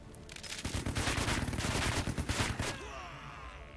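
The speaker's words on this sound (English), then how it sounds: "it'll put me in a good spot to take him out with the machine gun team" Machine guns fire during a WW2 Normandy beach battle in the American campaign of Headquarters: WW2. A loud, dense, continuous burst of rapid gunfire lasts about two and a half seconds, then cuts off, leaving a lighter background rumble.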